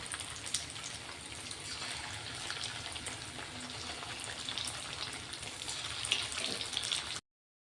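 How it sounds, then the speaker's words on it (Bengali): Rice and potato snacks deep-frying in hot oil give a steady, even crackle and bubble that holds at moderate volume throughout, then cuts out abruptly near the end. "দেখো কত সুন্দর একদম লাল লাল মুচমুচে হয়ে ভাজা হয়ে গেছে।"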